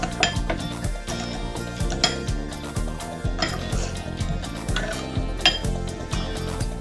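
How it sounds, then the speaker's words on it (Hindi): A spoon stirs sugar into warm water for pizza dough, clinking repeatedly and rhythmically against the bowl, close and crisp, with no talking. "ये 2 टेबलस्पून है तो 1 टीस्पून शुगर डाल के हम मिक्स करेंगे।"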